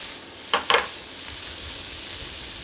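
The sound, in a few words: rice noodles sizzling in a wok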